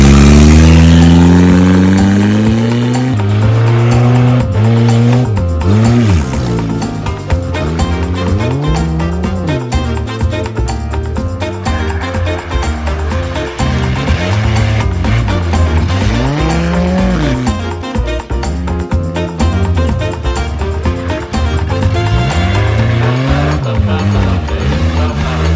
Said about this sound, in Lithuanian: Pirmas apšilimo ratas, pasižiūri trasą, antras pralėks dideliu greičiu